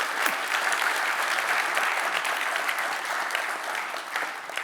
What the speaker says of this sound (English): So maybe a round of applause for the World Bank and IFC.